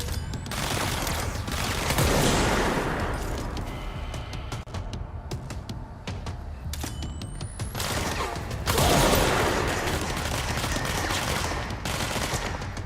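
Sustained bursts of automatic weapon fire in the video game Control, loud rapid shots forming two heavy volleys with a slightly lighter stretch between them, no voices.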